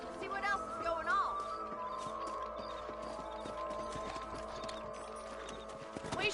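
Rhythmic clip-clop of horse hooves trotting along in a Wild West video game, moderately loud over a steady background hum, with a brief snort or whinny near the start.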